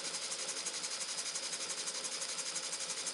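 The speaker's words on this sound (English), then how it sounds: "the engine has slowed down, but it will pick up very shortly now that no extra water has been put in" A Muncaster table engine running on steam from a 3-inch boiler chuffs in a rapid, even rhythm, a soft close-up patter with a faint hiss, alone and without voices.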